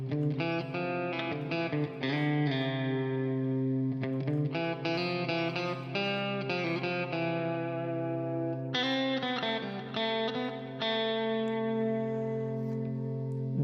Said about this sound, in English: This is the sound of the Ionian.